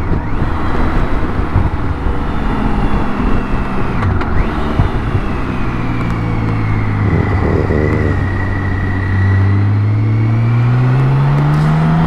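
A BMW K1600 GTL motorcycle rides off from a fuel station, its engine loud and close, rising steadily in pitch as it accelerates through the gears, with wind rush over a constant drone.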